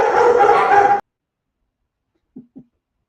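Dogs bark and yip in a dense burst for about a second, loud and close, then after a silence two short soft whimpers follow.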